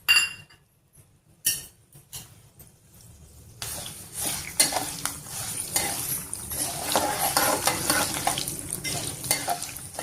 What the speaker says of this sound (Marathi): कढईमध्ये इथे मी थोडंसं तेल टाकते. या मेथ्या टाकूयात.